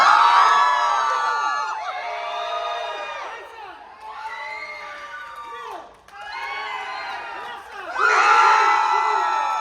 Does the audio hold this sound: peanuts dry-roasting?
no